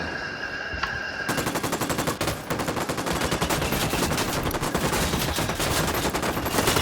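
Rapid automatic gunfire from the video game Ghost Recon Wildlands, loud sustained bursts that start after a brief quieter moment and keep rattling without pause.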